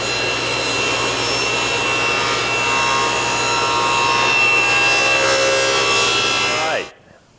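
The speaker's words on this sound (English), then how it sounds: "now I'm making the second 45-degree angle cut" A SawStop table saw making a 45-degree angle cut in wood: a steady whining blade hum with rasping cut noise holds for about seven seconds, then the motor drops away and spins down.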